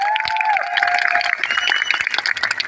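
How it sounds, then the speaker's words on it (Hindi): An audience at an award function breaks into dense, loud applause, with many hands clapping steadily together over a sustained tone. "एक बार जोरदार तालियां।"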